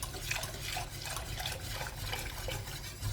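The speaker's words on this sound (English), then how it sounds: "Or then I'm going to add the milk." Milk poured into a pot for macaroni pie makes a steady, continuous liquid rush with a watery splash that holds at an even level from start to finish, close and alone without any talk.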